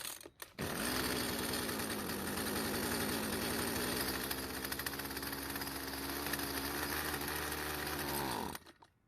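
Husqvarna string trimmer after long storage starting up and running at a buzzy, steady idle for several seconds before abruptly cutting out and dying.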